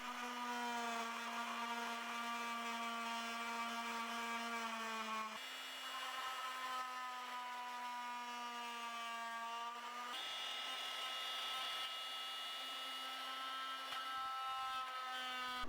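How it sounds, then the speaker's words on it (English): An oscillating multi-tool cuts through KTM 690 motorcycle fairing plastic with a steady, high-pitched buzzing whine, heard close in three long passes with brief breaks between them and no talking. "we use a multi-tool to cut it out"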